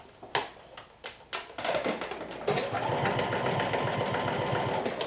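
A sewing machine bastes a seam with a 1/4 inch allowance on a Sinclair Alba garment, starting with a few taps and bursts, then a steady close whirring run with no talking.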